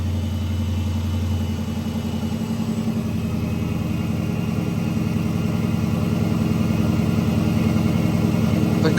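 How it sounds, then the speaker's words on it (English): A Dodge Challenger's 6.1 Hemi V8, fitted with a Spectre cold air intake and red filter, idles steadily up close. It gives a loud, continuous low rumble with a faint pulsing throb and no revving or talk. "The car definitely sounds louder, which is good"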